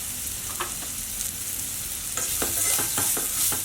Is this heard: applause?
no